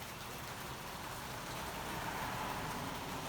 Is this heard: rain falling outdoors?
yes